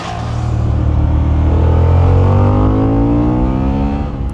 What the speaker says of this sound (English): in my opinion, it's a nice sounding parallel twin